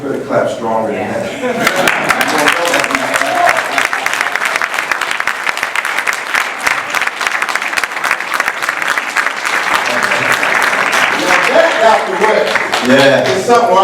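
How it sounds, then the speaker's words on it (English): A debate audience bursts into sustained, dense applause lasting many seconds, rising after a spoken line and fading as a speaker resumes talking over the tail of the clapping. "You better clap stronger than that."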